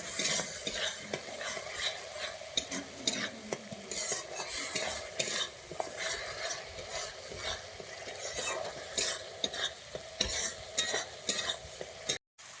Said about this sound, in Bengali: আমি এবারে এটাকে ভালোভাবে কষিয়ে নিচ্ছি